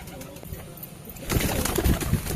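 A caught Madrasi pigeon gives soft, low cooing close by, followed by a louder burst of rustling and flapping-like noise.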